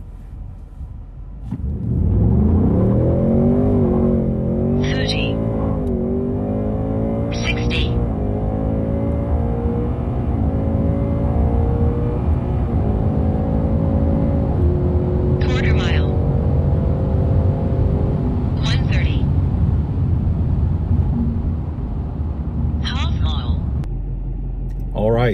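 A Ford Mustang GT S650 launches down a drag strip, its engine rumbling loudly and climbing through several gears with rising pitch, brief high shift chirps between, then fading at the end.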